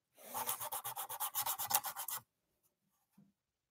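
Hand sanding with sandpaper: a rapid run of about fourteen even, rhythmic rasping strokes for two seconds, close and clear, then near silence with a faint knock.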